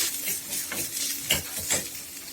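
A spoon stirs a sizzling moong dal tempering into banana stem kootu in a pot, with soft crackling and a few scraping strokes close by, no voices.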